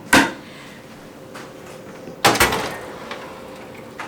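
A copy machine's paper drawer is handled, with a sharp knock at the start, then a heavier slide and clunk as the drawer moves and shuts, followed by a few faint clicks.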